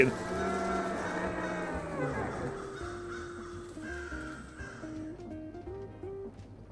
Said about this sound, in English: I heard birds that time.